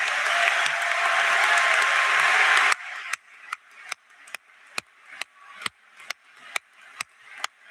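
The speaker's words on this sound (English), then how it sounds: "let's give them a round of applause" Graduation ceremony applause for scholarship recipients in a high school gathering: a dense, full wash of crowd clapping that abruptly cuts off, followed by a single pair of hands clapping in slow, steady, evenly spaced beats nearby.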